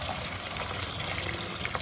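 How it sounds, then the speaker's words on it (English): Dirty water from buckets pours into a 5-gallon pail fitted with a strainer, a steady, close splashing gush that runs unbroken for the whole stretch. "Then we pour all our dirty buckets of water into that 5-gallon pail with that strainer"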